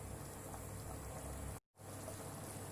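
Water boiling in a pot on the stove before rice goes in, a steady close bubbling roar broken by one brief silent gap.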